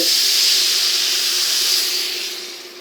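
Liquid poured into a hot pan of toasted rice for stuffed peppers, a loud rushing steam hiss that swells and then gradually fades, no voices.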